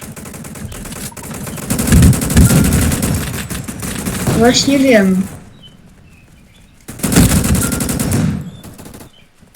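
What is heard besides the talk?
gunfire from new weapon in Roblox Gunfight Arena video game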